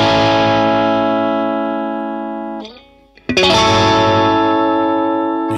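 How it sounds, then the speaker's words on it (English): A sustained, heavily distorted electric guitar chord rings out and fades, then a new gritty, crunchy chord is struck loud and close, the amp's mid-range breaking up. "You hear that mid-range breaking up."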